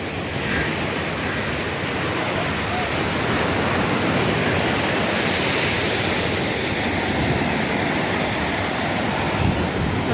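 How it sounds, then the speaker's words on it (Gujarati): Steady broadband surf from sea waves at Nagoa Beach in Diu, a continuous wash of breaking water with light wind, heard alone at even loudness throughout. "આ છે દરિયો દીવનો નાગવા બીચ"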